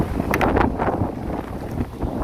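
Strong wind buffets the microphone outdoors, a loud gusty rumble with uneven surges and rustling bursts over about two seconds, with no talk.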